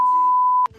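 A steady electronic censor bleep sounds for most of a second on a podcast about the flight attendant profession, then cuts off abruptly into the start of speech.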